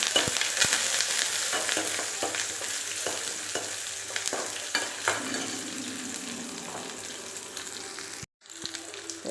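Onions sizzle steadily in hot oil for chana masala curry, with occasional scraping stirs, until the sizzle briefly cuts out near the end and then resumes.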